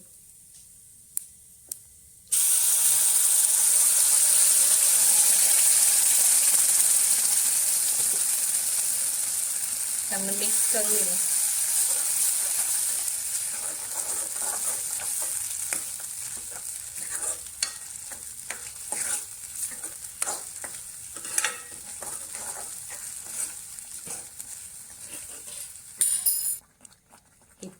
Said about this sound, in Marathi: पेस्ट चांगली तुपावर शिजून घेतलेली आहे